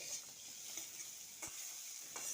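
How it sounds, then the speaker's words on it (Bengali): Mashed eggplant with salt and cumin fries in a pan with a steady, faint sizzle, while a spoon scrapes through it in a couple of brief strokes. "এইবার তাহলে সব ইনগ্রেডিয়েন্টসগুলো ভালো করে নেড়ে চেড়ে ভেজে নিই"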